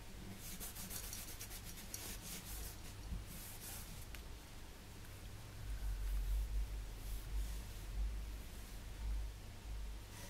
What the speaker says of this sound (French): Donc, on vient nettoyer sa plaque.